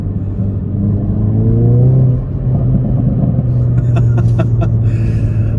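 A Skoda Octavia RS engine rumbles steadily from inside the car. The drone swells briefly as it revs, then settles back to a low, even hum, with a few faint clicks near the end.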